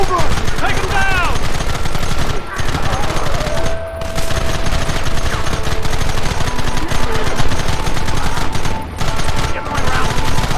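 Relentless gunfire from the video game Red Dead Redemption, rapid overlapping rifle and pistol shots forming a loud, dense barrage with only brief dips, and voices calling out beneath it.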